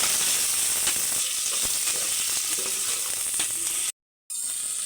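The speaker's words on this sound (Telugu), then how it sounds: "టమాటోస్ కూడా కొంచెం ఫ్రై అయిపోయినాయి." Tomatoes frying in a pot for a jackfruit biryani give off a dense, close sizzle with scattered ticks of stirring, broken near the end by a brief gap of silence.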